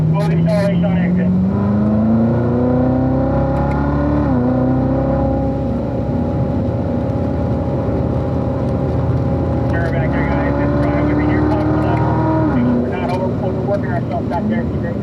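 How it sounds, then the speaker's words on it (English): Car lapping a race track at Spring Mountain, engine note steady and loud, dipping as it brakes into a corner then rising smoothly under acceleration on exit, with brief voices over the engine. "Early braking here, we just gotta get to the corner slowly, and then smooth acceleration on exit."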